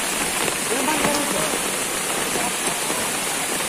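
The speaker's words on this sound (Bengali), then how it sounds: "প্রচুর বৃষ্টি হচ্ছে" Heavy monsoon rain pours steadily onto a village road and houses in Bangladesh. The dense, even hiss is close and loud throughout, with faint voices beneath.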